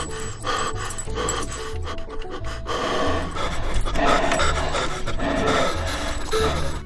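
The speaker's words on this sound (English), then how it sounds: "Please ignore my loud breathing." Heavy, rasping breaths close to the microphone repeat in an uneven rhythm for several seconds, loud and panting, with a steady low background hum behind them.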